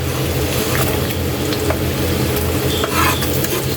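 Garlic sizzles and fries in a pan beside tilapia, a close, loud, continuous crackle with occasional stirring scrapes.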